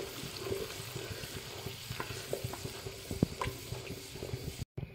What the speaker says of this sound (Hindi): मसाला हम सारा डाल देंगे, मसाला हम ज़्यादा बनाएंगे, और अच्छे से हम भून लेंगे